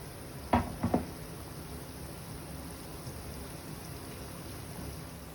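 Banana fritters made with curd, pazham pori, fry in hot oil with a soft, steady rain-like sizzle close by, a couple of sharper clatters near the start, no talking.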